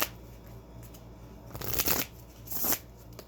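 A tarot card is shuffled and pulled from the deck in two brief papery bursts of riffling, close and moderately loud, over a faint steady hum.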